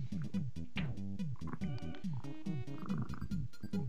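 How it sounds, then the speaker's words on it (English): Cat in the game Mother 2 (EarthBound) giving a loud, repeated meow-like cry over a bouncy chiptune beat, with no talking. "That is a loud cat."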